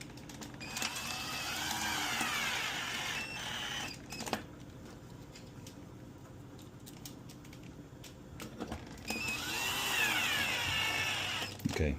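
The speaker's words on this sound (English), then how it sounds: "Okay, so 1/2 inch screw will put us in a good position, and this is about where we want it. Let me just drive that in there." A power drill drives a half-inch screw into a wooden board while assembling a pinball kit, whirring in two bursts at the start and the end with quieter handling noise between them.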